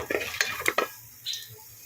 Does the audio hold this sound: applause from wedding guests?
no